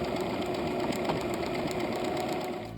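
A sewing machine runs steadily while zigzag stitching plushie outlines, its needle producing a close, continuous rapid whirring hum without pause.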